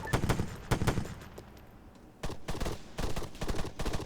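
Machine gun fire in a war video game, sharp bursts of rapid shots in several clusters with a brief lull, loud and without talk.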